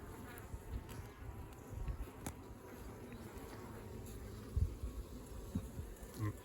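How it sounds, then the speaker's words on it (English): Honey bees buzz steadily around a honey frame being worked in the open, a soft continuous drone with scattered closer passes and light handling knocks. "here's another frame, and the bees are working on it"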